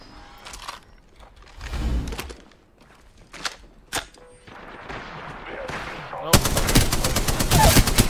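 Gunfire in the battle royale shooter Apex Legends, scattered single shots early, then a dense, loud burst of rapid automatic fire in the final seconds, with mechanical clicks between volleys.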